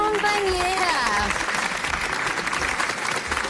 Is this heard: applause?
yes